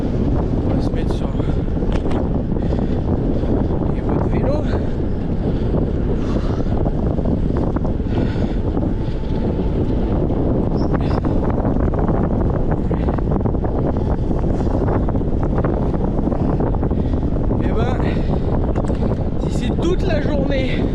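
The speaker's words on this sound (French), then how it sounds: "Donc de la pluie, du vent" Strong, constant wind buffeting the microphone with a rough, roaring rumble, over a faint patter of rain during a gravel race near Bordeaux; a voice talks intermittently underneath.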